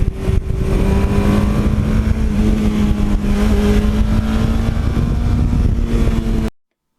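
A 1982 Suzuki GS1100E motorcycle engine pulls hard in a loud, continuous rising drone that shifts pitch as it revs, close up and alone, before cutting off abruptly.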